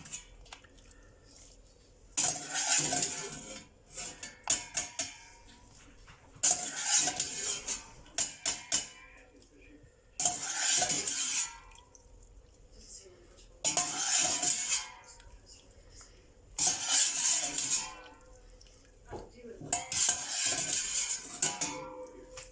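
Cooked pasta for a chicken pasta dish is dropped into sauce in a pan and stirred, making about six separate bursts of wet scraping and metal-on-pan clatter with quiet gaps between them.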